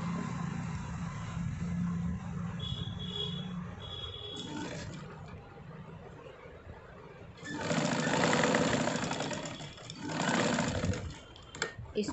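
A sewing machine stitching scraps of colored fabric together, a steady mechanical whir that runs quietly at first and then louder in two faster bursts.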